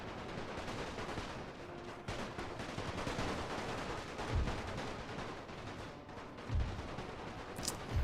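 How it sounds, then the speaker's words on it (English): Dense, continuous video game gunfire crackles throughout a World War I battle in Napoleon: Total War, with rapid bursts and occasional heavier booms, like a chaotic battle at middle distance. "You hear all the gunshots."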